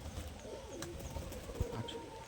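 Giribaz pigeons coo softly close by, low murmuring calls over faint background noise at a quiet level.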